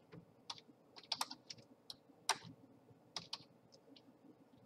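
Keys clatter on a computer keyboard in irregular bursts of crisp clicks and taps, fairly quiet and close, with brief pauses between runs of typing.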